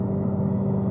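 A COBB-tuned Subaru STI engine cruising at about 75 mph on the highway gives a steady, even low drone with constant road and cabin hum, no rev changes.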